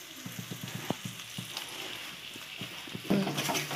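Boiled eggs and vegetables sizzle quietly in a pan while a utensil taps and scrapes in irregular clicks as they are stirred, ending in a louder clatter of mixing.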